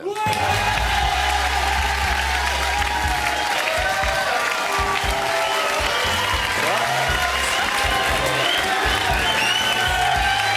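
A TV talk-show audience applauds in welcome of Miss France 2011, with dense, steady clapping throughout and a voice talking over it.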